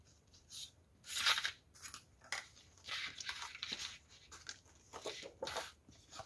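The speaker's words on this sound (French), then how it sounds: "Je vais par contre mettre un peu de scotch de masquage ici." Masking tape being pulled and pressed onto a paper album page, a series of faint crackling rips and rustles in irregular bursts, close and quiet.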